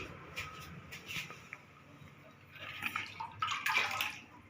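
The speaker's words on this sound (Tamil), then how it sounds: "தண்ணி மேத்துறேன்." Water is poured over soaking rice and millet in a kitchen, an uneven splashing and trickling that swells near the end, fairly close and quiet, alone without talk.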